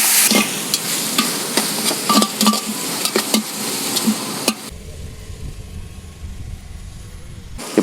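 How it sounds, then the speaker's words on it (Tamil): Sliced onions with green chillies fry in hot oil for village-style duck biryani, giving a loud, close sizzle broken by repeated scraping stirs. The sizzle then drops to a quieter, duller hiss for the last few seconds. "இப்போ நம்ம இந்த வெங்காயம் போட்டு நல்லா வதங்கினது ப்ரௌன் ஆயிடுச்சு."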